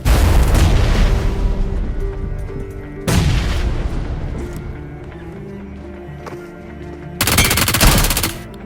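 Gunfire and a grenade explosion in a PUBG-style battle royale video game, with loud rapid bursts of automatic fire, a heavy boom midway and another dense volley near the end, all close and dominant.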